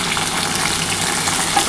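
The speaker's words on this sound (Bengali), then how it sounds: "আমার কিন্তু আলু আর ডাঁটাটা কিন্তু দেখো ভাজা হয়ে এসছে।" Potato pieces and drumsticks fry in hot oil in a pan, a dense, loud, continuous sizzle that fills the whole moment with no voices.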